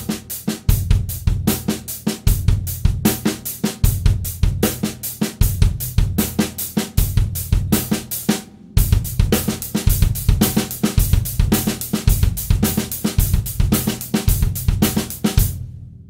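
A drum kit plays a steady funk-rock groove with the bass drum matching the snare rhythm under busy cymbal strokes, looping with one brief gap midway and no voices.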